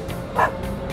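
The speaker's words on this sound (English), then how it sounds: "It's a dog." A dog gives a single short, yappy bark midway through a brief stretch of otherwise steady background noise, with no talking.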